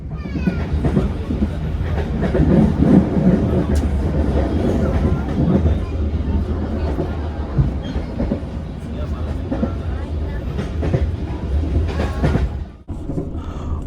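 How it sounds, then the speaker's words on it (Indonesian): The Motis Utara freight train departs Tegal station, a loud, steady rumble with rhythmic clickety-clack of wheels on rail joints, passing close and sustained, with some talk mixed in. "barusan saja kereta api Motis Utara berangkat dari stasiun Tegal"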